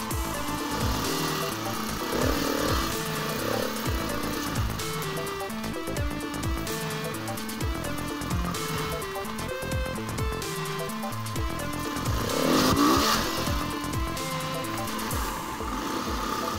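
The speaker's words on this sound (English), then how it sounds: "I found some good rock formations to ride the bike on" KTM 500 EXC dirt bike ridden over rock formations, its single-cylinder engine buzzing and revving unevenly with constant throttle changes under rattling and wind noise, fairly faint and steady throughout.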